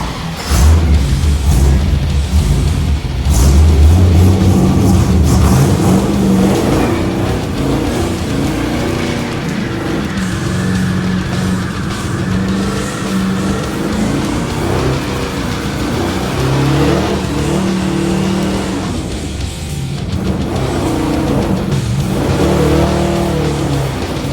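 An LS-swapped 1963 Chevrolet C10 rat rod revs hard while a tire spins, a loud, sustained engine roar that climbs and holds, with a deep rumble at the start and a brief dip near the end.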